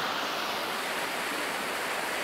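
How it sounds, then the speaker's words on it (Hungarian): Waterfall at Szilvásvárad pouring into a small lake, a steady, dense broadband rush of falling water that fills the whole clip without pause, close and loud, with no voices over it. "meg ott szembe a vízesés."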